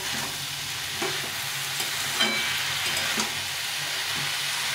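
Onion stalks frying and stirred in a pan with vegetables for a fish chorchori, a steady close sizzle with occasional soft stirring scrapes throughout.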